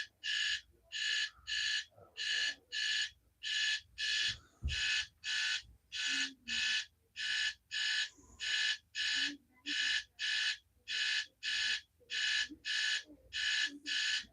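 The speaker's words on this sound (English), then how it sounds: "Let me shut this alarm up." An electronic alarm clock beeps in a steady, rapid pulsing pattern, about one burst per second, loud and continuous throughout, with faint room noise beneath.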